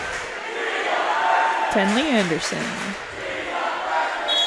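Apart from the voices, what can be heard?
crowd cheer for a volleyball player at a girls' varsity match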